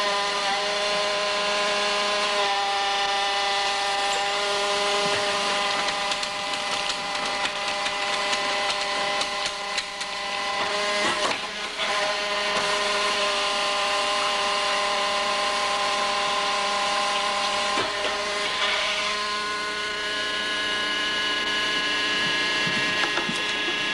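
A hydraulic bellows-forming machine, model HFBH 9501, runs with a loud, steady mechanical drone full of sustained tones, with occasional clanks and shifts in pitch throughout.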